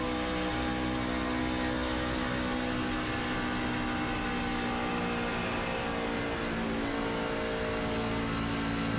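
Race truck engine held near full throttle in a Truck Series racing game at Auto Club Speedway, a steady loud buzzing drone with constant pitch and only slight easing, running alone without voices.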